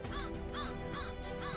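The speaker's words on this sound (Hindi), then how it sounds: "एक कौवा भी था" A crow caws in a regular rhythm of four short harsh calls about 0.4 seconds apart, clear and fairly close, set against a steady low background hum.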